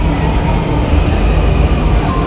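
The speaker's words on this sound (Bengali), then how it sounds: "2 নম্বরে এসেই দেখলাম একটা ট্রেন ঢুকে গেছে।" A Delhi Metro train pulls into the platform with a loud, steady rumble and rolling wheel noise that fills the whole stretch, cutting off sharply at the end.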